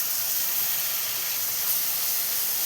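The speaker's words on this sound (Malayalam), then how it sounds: "ഇനി ഇതിലേക്ക് ഒരു തക്കാളി മിക്സിയിലിട്ടൊന്ന് അരച്ച് വെച്ചതാണ്, അതും കൂടെ ചേർത്ത് കൊടുക്കാം." Blended tomato hitting a hot pan for a Kerala beef curry, giving a steady, even hiss of sizzling that holds loud and unbroken throughout.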